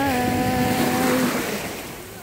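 Sea waves washing in at a beach resort in Talaan, a broad steady wash of surf close by that fades slightly toward the end, with a faint tonal hum early on.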